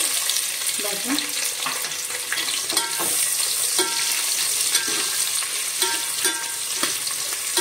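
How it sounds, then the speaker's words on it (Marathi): Onion fries in oil with bay leaf, cloves and cinnamon for chicken biryani, giving a loud, close, continuous sizzle with repeated clinks and scrapes of stirring throughout. "कांदा लाल होईपर्यंत आपण हा भाजून घेऊया।"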